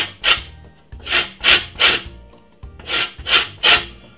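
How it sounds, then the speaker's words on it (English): A lemon is rubbed against a grater in a series of rasping strokes, about eight of them in quick uneven rhythm, close and fairly loud, with no talking. "I'm gonna grate my lemon just to give you guys an idea of what's going on right here"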